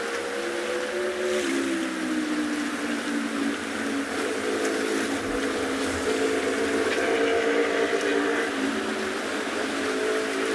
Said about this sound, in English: we can still hear the motorbike